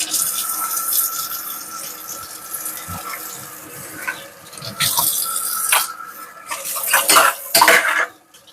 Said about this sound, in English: Mostly just to wash my angel food pans.